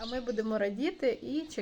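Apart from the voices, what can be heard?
None of the usual background noises is heard.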